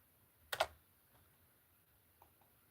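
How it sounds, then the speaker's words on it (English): A couple of quick, close keystroke clicks from a computer keyboard land together in one brief burst, followed by a few faint taps in an otherwise quiet room. "I keep double typing stuff, or it's my keyboard."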